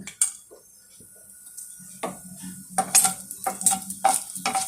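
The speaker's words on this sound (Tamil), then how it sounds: "எண்ணெயில் கடுகுளுத்தம்பருப்பு போட்டிருக்கிறான்." Mustard seeds and urad dal crackle and pop in hot oil, a light spattering sizzle with scattered sharp clicks, alongside a few metal utensil knocks.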